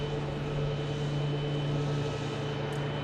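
A Boeing 737 Max 8 jet starting up at Phoenix Sky Harbor airport, heard as a steady, fairly quiet engine drone with a constant low hum and faint whine, even and unbroken throughout.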